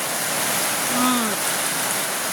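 Heavy Holy Week rain pours steadily, a loud dense hiss with no breaks, while a faint bird-like chirp rises briefly in the middle.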